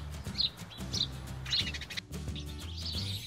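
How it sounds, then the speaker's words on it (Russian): House sparrow chirping in short, bright, separate chirps spaced about half a second apart, fairly close and clear over a low steady background hum. "Воробей."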